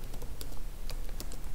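Typing on a computer keyboard while writing a mock SOAP server response: a quick run of close, crisp key clicks in an uneven rhythm over a low background hum, with no talking.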